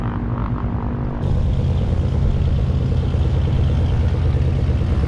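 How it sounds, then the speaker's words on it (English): A propeller airplane near Santa Monica Airport gives off a deep, rumbling engine drone, steady and fairly loud, thickening a little as it continues. "I love the engine noise of this plane. It's got kind of a muscle car rumble going on in there."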